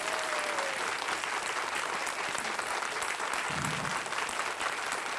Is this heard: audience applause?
yes